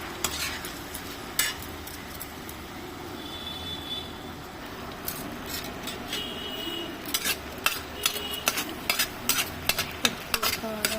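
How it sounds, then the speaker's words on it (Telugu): Cleaned mushrooms frying in hot oil, a constant low sizzle with sharp spatula clinks and scrapes against the pan growing more frequent in the second half; no talking. "ఆయిల్ వేడైంది. క్లీన్ చేసిన మష్రూమ్ వేస్తాను."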